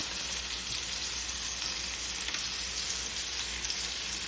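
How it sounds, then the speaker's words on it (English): Turkey wings in a pot of oil and bacon grease for Italian braised turkey wings give off a loud, steady sizzle and fry, close and unbroken, with no talking. "Just gonna let it braise a little bit and put it in that pot."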